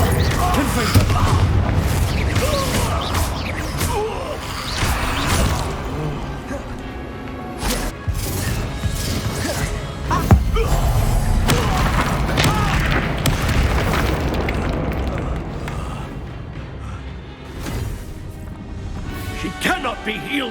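Confringo fire spells blow up in Hogwarts Legacy, a series of deep booming blasts and crashes repeated throughout, under game voices and spell casting.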